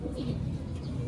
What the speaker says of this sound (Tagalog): Ayan yung ibon oh.